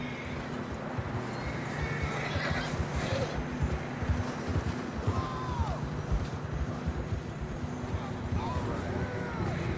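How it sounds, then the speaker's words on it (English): Horses in Red Dead Redemption 2 whinny and neigh over steady clip-clopping hooves, with several rising calls around the middle and end amid an outdoor game soundscape. "I don't think we can go much further on the horses."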